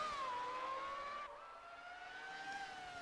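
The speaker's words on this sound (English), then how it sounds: "Hear the roar of the engines." Older Formula 1 car engines whine at high revs, their pitch sliding down and then up again as they shift and pass, a sustained, fairly distant scream with no talk over it.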